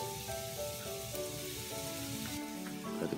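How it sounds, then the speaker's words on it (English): An onion and apple mix sizzles in olive oil in a preheated pot, a soft even crackle under a steady tonal hum, faint and continuous. "There we're gonna add our onion and apple mix till they turn a little bit glassy."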